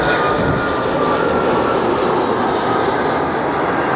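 A Continental Airlines jet airplane roars steadily at LAX, a loud, continuous broadband engine rush that holds for several seconds without talk.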